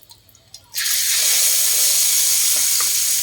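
Egg with cha-om leaves and fish frying in oil in a pan, a loud steady sizzle that bursts in abruptly after a short quiet start and holds continuously.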